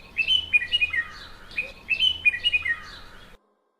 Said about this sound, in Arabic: إنه صوت البلبل.